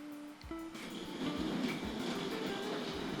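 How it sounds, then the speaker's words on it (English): A Tri-ang R.152 diesel shunter model locomotive with tank wagons starts off with a few clicks and then runs with a soft continuous rattle of wheels on track, fairly quiet and close. "let's see if we can get this locomotive to run around"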